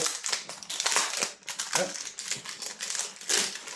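A plastic Temu parcel is ripped open up close, giving a continuous busy crinkling and crunching of plastic wrap with rapid, uneven bursts and no pauses.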